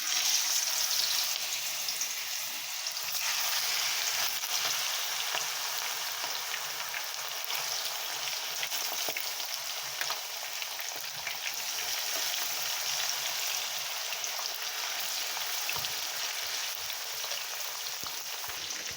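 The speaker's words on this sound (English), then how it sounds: "I'm now ready for frying my meat." Pork sizzles and crackles steadily in a hot pan while browning for Jamaican brown stew, a dense continuous frying hiss throughout with no talking.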